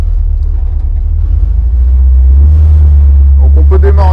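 A Dodge Charger's engine rumbles loud and close in a low, steady drone, then pulls away on a circuit in third gear, its tone rising in clear stepped harmonics near the end.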